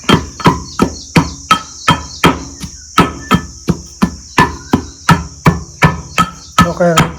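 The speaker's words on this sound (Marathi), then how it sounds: "त्याच्यामुळं आपल्याला असं ठिसून घ्यायचं, एकदम बारीक करायचं बघा." Bitter gourd and drumstick leaves pounded into a fine paste, a steady rhythm of heavy, close thuds about two per second with a faint high buzz running underneath.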